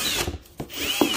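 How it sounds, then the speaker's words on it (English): A power drill briefly bites into a slightly undersized hole to widen it while fitting Mictuning RGBW C3 rock lights, giving short close whirring bursts with gaps between. "So then you're gonna wanna grab your drill"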